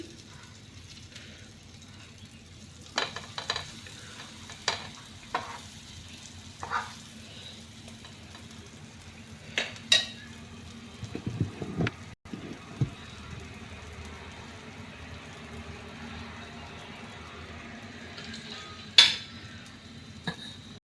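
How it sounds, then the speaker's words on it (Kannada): Bread, potato and cheese toast being flipped in a pan gives a faint, steady low sizzle, with scattered soft taps and scrapes from the turning utensil and one sharper clack near the end. "ಹೀಗೆ ಇದನ್ನು ಉಲ್ಟ ಮಾಡ್ಕೊಂಡು ಫ್ರೈ ಮಾಡಿ"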